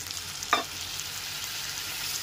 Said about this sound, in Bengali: মশলাটাকে টমেটোটার সাথে খুব ভালো করে কষিয়ে নিতে হবে।